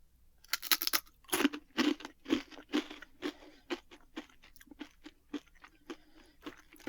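Crisp, close crunching of a sturdy bean chip, a run of sharp bites and chews repeating roughly every half second, loud at first then softer, with no talking.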